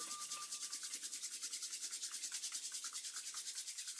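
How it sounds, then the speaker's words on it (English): Palms rubbed briskly together during a yoga session, a steady rhythmic swishing friction repeated many times at an even pace, close and fairly quiet with no talking. "Rub the palms one more time."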